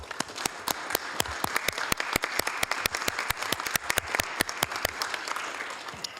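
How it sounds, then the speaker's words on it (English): A small audience at a Hayward city council meeting applauds steadily, with crisp, closely spaced claps running throughout at moderate loudness and no voices over them. "let's give affordable housing a big round of applause"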